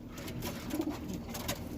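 Flying pigeons coo softly and at a distance, a faint low burbling under steady background noise.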